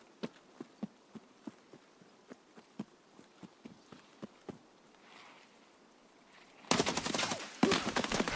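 Video game gunfire: a steady run of single shots at distance, evenly spaced and fairly faint, then a loud, close burst of dense noisy firing near the end.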